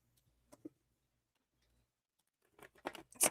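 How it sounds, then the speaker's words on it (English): Tarot cards being shuffled by hand, the deck slightly larger than usual, with two soft riffling flicks early on and then a denser, louder flurry of papery card shuffling toward the end. "One more shuffle."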